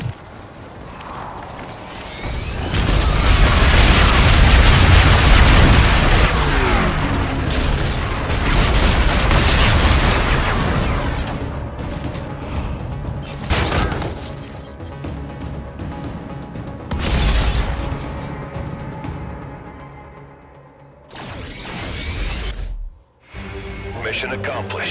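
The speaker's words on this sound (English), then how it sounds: "Enemy bombardment incoming." Enemy bombardment in the Call of Duty: Infinite Warfare video game: heavy booming explosions and crashes roll through the mix, loud and dense for the first half, then sporadic blasts and mechanical clatter, with game voice lines over it.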